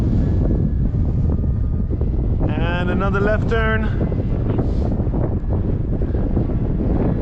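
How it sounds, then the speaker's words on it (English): Strong wind buffets the microphone at a radio-controlled model airfield where an E-flite T-28 Trojan is flying. It makes a constant loud low roar, and someone talks briefly partway through. "It's a lot of wind out here"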